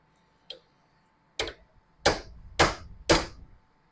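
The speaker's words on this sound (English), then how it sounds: "So now we got a hammer and a chisel." Five sharp metallic hammer strikes on a chisel cutting out a leaf spring bushing on a 1975 Ford Bronco, the first light and the next four heavier and evenly spaced, close up against a quiet background.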